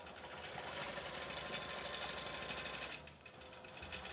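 A sewing machine stitches fabric while yarn is fed in ahead of the needle, running with a loud, steady mechanical chatter that dips briefly near the end.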